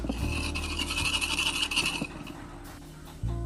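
Eggs beaten in a bowl for an omelet make a fast, loud rasping scrape for about two seconds, then fade to quieter scratching, close by.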